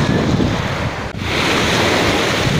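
Ocean waves surge and wash continuously at the sea in Cancún, loud and close, with strong wind rumbling across the microphone.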